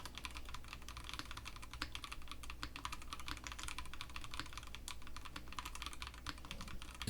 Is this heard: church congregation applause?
no